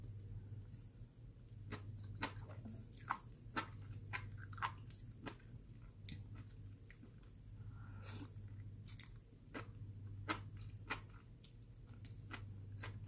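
Close, quiet chewing of cod roe and wakame seaweed with soft crunches and wet squishes at an irregular rhythm, over a low steady hum.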